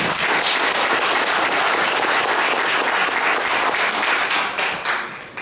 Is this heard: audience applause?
yes